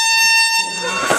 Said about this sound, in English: And that's a fucking air horn.